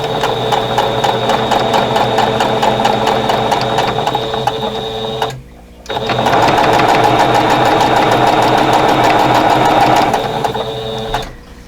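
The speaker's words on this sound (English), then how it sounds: "and then we'll sew these." A sewing machine stitches rows of a stash-buster quilt block together, running loud and close with a fast, even mechanical chatter that breaks off briefly midway, then resumes and stops.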